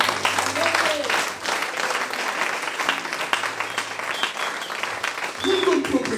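A church congregation bursts into sustained applause acclaiming the Lord, dense broadband clapping running steadily throughout with low organ or keyboard tones and crowd voices mixed underneath.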